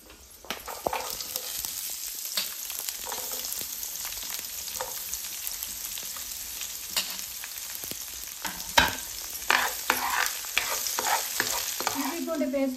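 Green chili and big onion fry in hot oil in a pan while being stirred, a steady close sizzle broken by scraping strokes of the spoon throughout.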